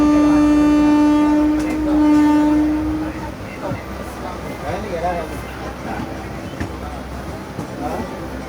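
The Mangaluru–Mumbai Superfast Express pulls out of Udupi station, opening with a long, loud steady horn blast, then settling into rolling wheel clatter and rumble with faint background voices.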